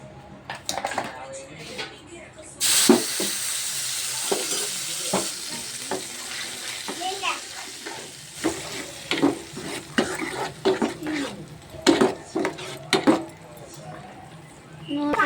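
Chicken sizzles in a pot of hot oil with mint paste, a bright crackling fry that starts abruptly, broken by repeated spoon stirs and clinks against the pan, with a voice speaking over it.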